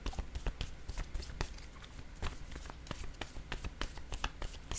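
Word cards being handled in a language activity: a brisk run of soft, close paper flicks, taps and shuffles with irregular sharp clicks throughout, faint and alone.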